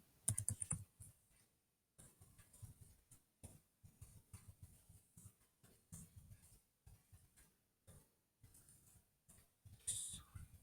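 Keys on a computer keyboard clatter in steady bursts while code is typed, close and fairly quiet, with short pauses between runs of keystrokes and no talking.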